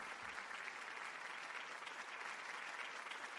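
Applause sound effect from a Twitch alert, a steady burst of clapping and light crowd noise playing evenly throughout at low level with no talking.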